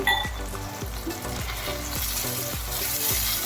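Chilli potato gravy cooks in a pan with a steady close sizzle, while a spoon scrapes and stirs in a regular rhythm of soft strokes about every half second, with no talk.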